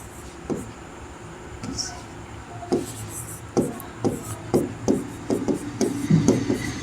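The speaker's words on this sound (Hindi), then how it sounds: "तो यहाँ पे लिखेंगे" A maths formula is written on a board for a Class 10 coordinate geometry lesson, with a series of short scratchy strokes and taps in an irregular rhythm, close and moderately loud over a faint background hum.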